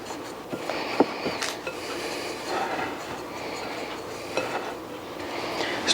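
Salt being stirred into empanada dough in a bowl gives a steady scraping and stirring clatter, with a few sharp knocks of utensil against the bowl, close and fairly quiet.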